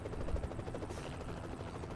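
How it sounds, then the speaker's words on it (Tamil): A helicopter flies in the mobile battle-royale game BGMI, its rotor giving a steady, rhythmic thumping drone throughout, with no talk over it. "ஹெலிகாப்டர்ல ஏறு"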